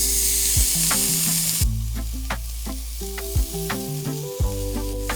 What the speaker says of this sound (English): So into a hot pan, and you need to hear this sizzle.